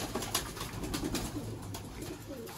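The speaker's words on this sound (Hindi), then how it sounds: "जी सियालकोटी 35 वाले माशाल्लाह कबूतर।" Soft, steady cooing of Sialkoti pigeons, a low throaty warble repeating throughout, close by, with faint background noise and no talking.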